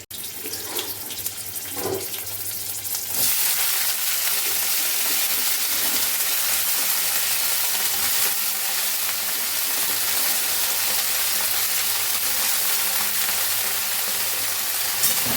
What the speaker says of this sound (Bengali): তো শাক ভাজা আমার হয়ে গেছে